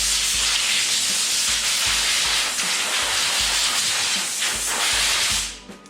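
Compressed air blasts dust out of a cold air return, a loud, steady broadband hiss held close for about five seconds with faint rhythmic thumps beneath, then cutting off abruptly.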